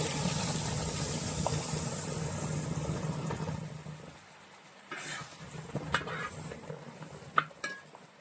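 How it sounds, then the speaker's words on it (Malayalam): Jackfruit paste stirred into hot ghee in a pan for jackfruit varatti: a steady cooking rustle fades midway, then sharp metallic clinks and scrapes of the spoon against the pan follow, with no talking. "നെയ്യ് ഒഴിച്ചതിലേക്ക് നമ്മളിത് ഈ ചക്ക അങ്ങ് ചേർക്കുവാണ്"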